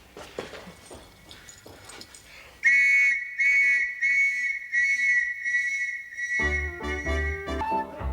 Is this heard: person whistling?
yes